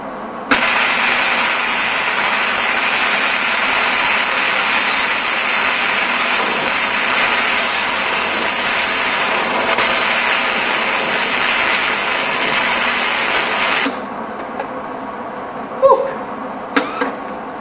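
Flux-core wire welding with the heat fully cranked and wire speed at 25, burning through the metal: a loud, steady, crackling hiss held for about thirteen seconds, then cutting off into quiet shop noise and a few clanks.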